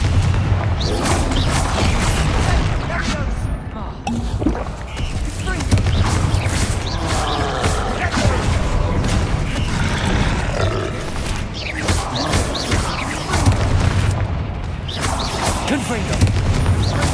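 Repeated fire-spell blasts and booming combat impacts from the Hogwarts Legacy video game, continuous and loud, with roaring rumbles and layered effects filling the whole stretch.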